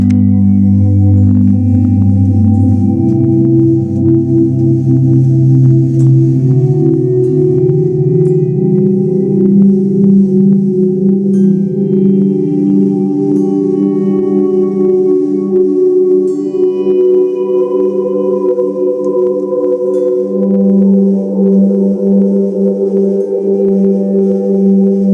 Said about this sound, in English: So the reverb and the delay sound really good together,